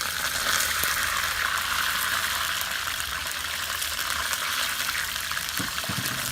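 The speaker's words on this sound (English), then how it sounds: "So I'm going to test it out by sprinkling some water on it." Water sprinkled onto a hot pan, heated for a curry mee sauté, gives a loud, steady hiss that holds evenly from start to finish with no other sounds.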